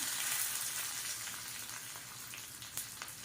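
Chillies and onions sizzling in hot oil for a Tamil-style sardine fry, a steady close crackle and hiss throughout with a few sharper pops near the end, no talk.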